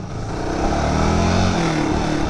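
A Yamaha New Vixion motorcycle idles with a Tridente F20 Raptor exhaust set to silent mode. It gives a steady, muffled, low rumble with a slight swell in revs, close and continuous for a couple of seconds.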